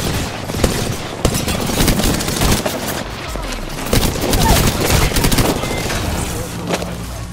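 Dense automatic gunfire from Apex Legends weapons rattles in bursts throughout a hectic squad firefight, with loud crackling volleys and a few heavier booms, while teammates shout over the shooting.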